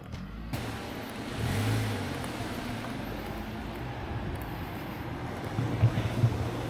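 Car engine idling close by at a roadside bus stop in a small Japanese town, a steady low rumble with light wind buffeting the microphone throughout.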